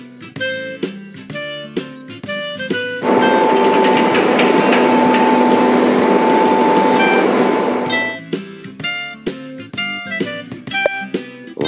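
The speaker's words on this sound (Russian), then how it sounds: "В метро спустились мы, и вот нас поезд под землей везет." Cartoon underground metro train running, clattering rhythmically at the start and end with a sustained loud roar through the middle as it speeds through the tunnel.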